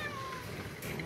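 A house cat gives a short meow, close and fairly clear, with faint room noise behind it.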